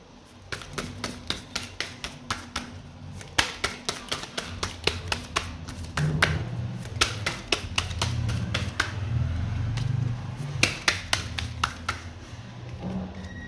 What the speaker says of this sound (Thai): ขออนุญาตสับไพ่แล้วก็เลือกไพ่ให้กับชาวลัคนาราศีเมษนะคะ